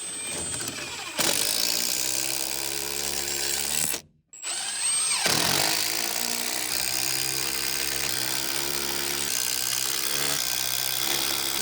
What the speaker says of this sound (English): Let's attach this to the post with these little mini lag screws.